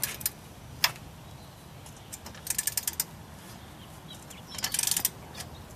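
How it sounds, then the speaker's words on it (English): A socket ratchet clicks in short rapid bursts while backing off bolts on a 2004 Jeep TJ front bumper, with a few isolated ticks between runs, close and moderately quiet. "Ratchet it back."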